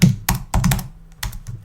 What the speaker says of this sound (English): Got a new keyboard, so it's a lot quieter, but I need to learn how to use it.